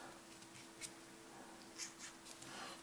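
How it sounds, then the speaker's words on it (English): A Tombow marker pen strokes across paper to highlight, giving faint, soft swipes and brief scratchy rubs in a quiet room, several short strokes spaced irregularly. "I'm going to take another pen, I'm going to swipe the end of the nib, and then I'm just going to highlight."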